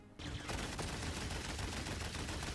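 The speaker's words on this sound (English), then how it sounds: "Did she shoot us through walls?" Dense, continuous automatic gunfire in Paladins fires through walls in a loud, rapid burst that starts abruptly and runs without pause.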